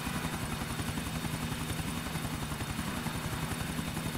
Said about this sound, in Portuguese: Helicóptero bonito, hein, velho?